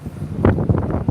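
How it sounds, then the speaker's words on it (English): Gusts of wind buffet a microphone outside a civic centre in Oldham in low, uneven rumbling bursts for about a second, with no speech. "Really windy here, always has been."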